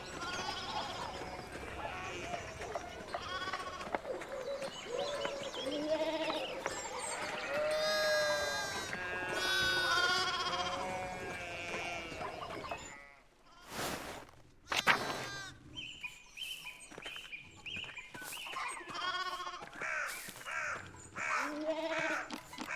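Sheep bleat on the road in the video game Pentiment, several overlapping, wavering cries close by, with a brief pause before more bleats and other animal calls return.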